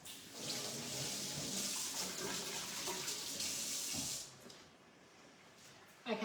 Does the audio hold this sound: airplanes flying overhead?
no